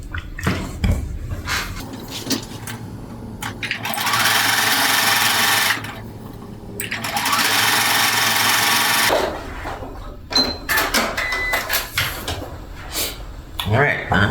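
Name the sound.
sewing machine sewing quilt pieces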